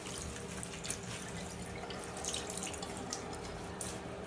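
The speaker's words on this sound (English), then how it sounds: "I'm just going to wet it with some warm water," A shower tap runs warm water in a bathroom being cleaned, a steady close rush and splatter of flowing water with no talk throughout.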